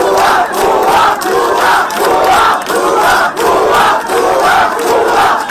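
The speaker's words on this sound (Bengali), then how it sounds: "যাকে আজকে ছাত্র জনতা ভুয়া ভুয়া স্লোগান দিয়ে ঘিরে ফেললো।" A large crowd of students chants 'bhuya bhuya' slogans while surrounding Bangladesh's law adviser, a loud, dense chant in a steady repeating rhythm with short pauses between phrases.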